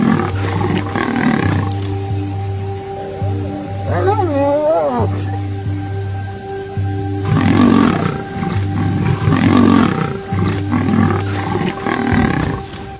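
Lions roaring in the wild, with deep, growling roars repeating close and loud over a steady low hum, alongside sharp rising calls of other animals and a voice speaking partway through.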